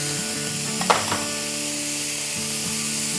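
Grated onion sizzles in a pan for fish cutlets, a steady frying hiss with a brief stirring scrape near the start and soft music underneath.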